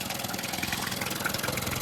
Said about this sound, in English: Engine's ticking over nicely.